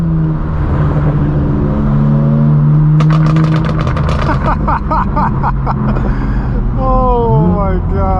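A straight-piped BMW M4 F82 at a supercar meet roars loudly and close, with sustained exhaust tones, then hard revving with rapid crackling pops and a rising howl near the end.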